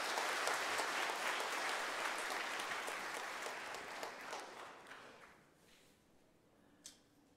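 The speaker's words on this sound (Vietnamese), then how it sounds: "một tràng pháo tay thật lớn" A large retreat audience applauds a priest being welcomed, starting as dense, even clapping that gradually fades over several seconds and leaves a quiet room with one faint tap at the end.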